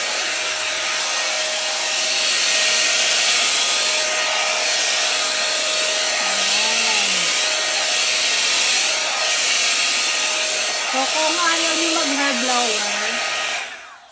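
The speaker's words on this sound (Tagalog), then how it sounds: "kung ayaw nyo mag-hair blower, pwede nyo itong gamitin kasi suklay siya na may pang dry" A Sorose 5-in-1 hair dryer comb running at close range, a loud steady whirring blow with a faint high whine, its pitch shifting slightly as it moves through hair, cutting off at the end.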